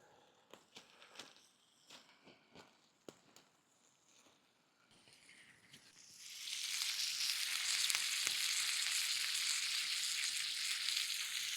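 Loud, steady sizzling of bacon in a hot frying pan, starting after a few soft clicks and knocks, then a continuous bright crackle.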